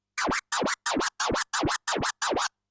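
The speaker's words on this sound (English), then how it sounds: "we've covered the baby scratch" Seven evenly spaced DJ baby scratches on a turntable, each a quick back-and-forth sweep of the record, loud and rhythmic with no voices.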